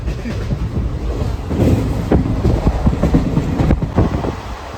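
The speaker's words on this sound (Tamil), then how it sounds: "ட்ரெயின் ஸ்பீடு பார்த்தீங்கன்னா இப்போ வந்து 98 100 110 வரையும் போயிட்டுருக்க ஸ்பீடு நல்லா வந்து செம ஸ்பீடு போகுது" A train rumbles along at about 100–110 km/h, a steady heavy roar with rhythmic clacking of wheels over the rails throughout.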